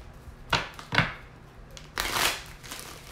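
Tarot cards being shuffled by hand give a few quick riffling bursts, two short crisp flurries followed by a longer rustling riffle, close and fairly quiet with no talking.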